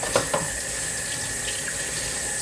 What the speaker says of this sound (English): Then I'm gonna wash off my asparagus.